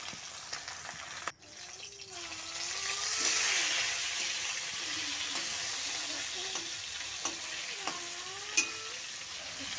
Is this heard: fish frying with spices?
yes